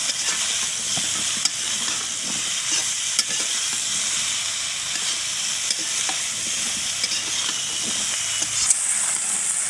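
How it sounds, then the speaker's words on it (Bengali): Drumstick vegetables and egg curry cooking in a pan, with continuous frying hiss and sizzle and faint, irregular stirring scrapes, close and steady throughout. "সেই ঝোলে একটু সবজিগুলো কষাই নেব"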